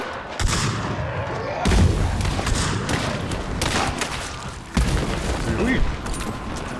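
An exploding barrel and gunfire in the game Hunt: Showdown, with heavy booms and a fast run of shots that fill the short clip at close range, and a second loud blast near the end.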